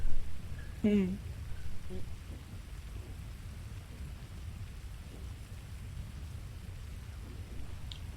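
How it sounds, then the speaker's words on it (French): Rainstorm with thunder in the GTA roleplay video game: a steady hiss of rain with low rumbling underneath, and a brief voice sounding near the start over the storm. "Je sais pas combien de temps va durer la tempête."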